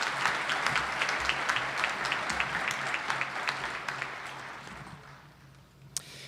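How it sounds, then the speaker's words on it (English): Sustained applause from a commencement audience honoring graduates at a winter ceremony in Albany, NY, a dense steady clapping crowd that thins and fades toward the end, with a single sharp clap near the close. "a round of applause for our graduates today."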